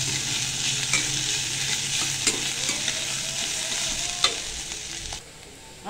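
Garlic and ginger paste sautéed in a pan, making a continuous sizzle with repeated spoon stirs and scrapes close by, fairly quiet, with the frying dropping off near the end.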